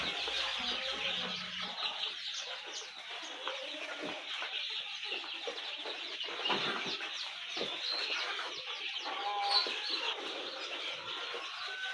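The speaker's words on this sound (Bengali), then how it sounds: "এটা হচ্ছে আমার দেশি গলাশিলা মুরগির বাচ্চা" Naked neck deshi chicks of mixed ages, from newly hatched to about two weeks old, peep and chirp continuously at close range, with occasional clucks and wing flutters and no talking.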